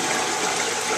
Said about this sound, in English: pull the plug out of the waistline